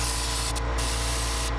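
An airbrush sprays transparent base mixed with reducer and color shift powder onto a fishing lure, giving a steady, close, continuous hiss with no talking.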